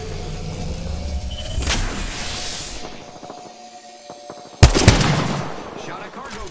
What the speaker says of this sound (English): Shot a cargo bot.